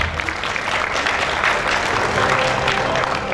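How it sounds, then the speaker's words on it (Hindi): Steady, dense applause from a crowd at a customer recognition award ceremony, honouring top performers, filling the space evenly and continuously. "इन तमाम लोगों के लिए पुरजोर तालियां"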